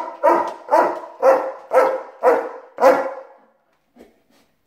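A German Shepherd barks loudly six times in an even rhythm, each bark close and full, then a couple of faint soft sounds follow after the barking stops.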